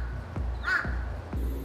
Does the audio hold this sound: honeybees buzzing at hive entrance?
no